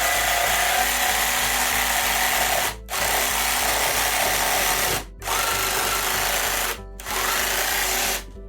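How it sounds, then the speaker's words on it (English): Power drill boring pilot holes into a wooden board, a loud close whirring grind in three long runs separated by short breaks where the motor stops. "I drilled pilot holes that would be the starting point for the router to then cut out these shapes"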